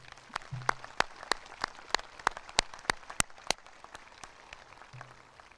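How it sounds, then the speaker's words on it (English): Scattered, sparse clapping from a small portion of a graduation ceremony audience, with individual sharp claps spaced irregularly rather than a full ovation, fairly quiet overall and fading out. "So please join me in giving them a round of applause."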